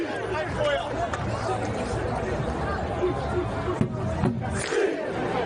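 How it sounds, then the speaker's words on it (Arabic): Moroccan football fans in New York cheer and chant loudly as a dense crowd, with shouts and babble rolling over one another without a break. "نتابع هذه الأجواء المميزة مع الجماهير المغربية بشكل خاص والجماهير العربية بشكل"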